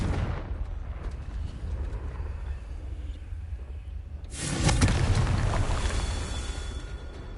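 A Confringo fire spell from Hogwarts Legacy blasts once with a sudden loud burst midway, then a sustained roaring rumble trails off, following a stretch of lower background game noise.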